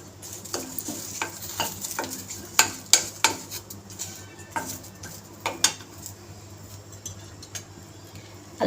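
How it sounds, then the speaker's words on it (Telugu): Curry leaves dropped into hot oil while cooking bottle gourd curry, crackling and sizzling steadily as a metal spoon scrapes and taps the pan in repeated sharp knocks. "ఇప్పుడైతే కొంచెం కరివేపాకు వేస్తున్నాను."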